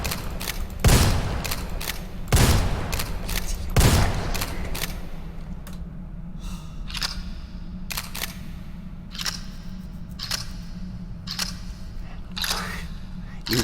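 Gunfire in the video game Project Crypt: a few loud, sharp shots ring out close together early on, followed by fainter clicks and mechanical knocks, with a voice talking in between.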